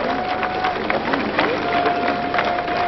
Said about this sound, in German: Jubel für den großen Bruder aus Moskau.